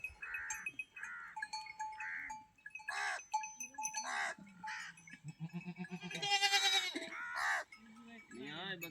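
Goats in a Cholistan desert herd bleat again and again from close by, with loud overlapping calls coming in quick bursts and some human voices mixed in.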